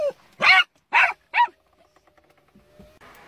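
A dog barks three times in quick succession nearby, followed by quiet with faint rustling.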